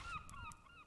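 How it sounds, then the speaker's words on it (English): A seagull calls in the game Minecraft, giving a short series of thin, honking cries that sound somewhat distant, followed by a sudden louder thump at the end. "I like how the seagull sounds like it's far away."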